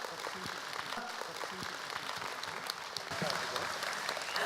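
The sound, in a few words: audience applause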